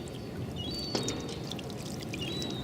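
Water pours steadily over a hydrophone on a boat deck, rinsing off salt, a continuous splashing wash with a brief louder splash near the middle.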